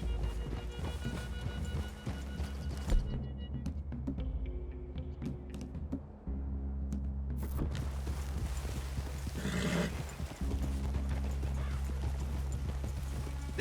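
Horses in the Red Dead Redemption 2 video game: hooves clip-clop at close range with occasional neighs, over a steady low ambient drone and a few sharp clicks.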